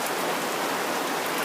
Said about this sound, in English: the rain is really pouring now